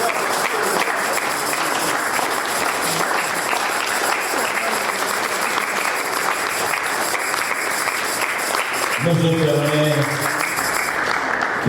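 A church congregation applauds the Lord in sustained, dense clapping that fills the space, steady throughout, with a brief tonal swell near the end.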